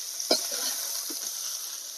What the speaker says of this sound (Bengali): কাঁকড়াগুলো ভাজা হয়ে গেছে দেখুন ঠিক এরকম হবে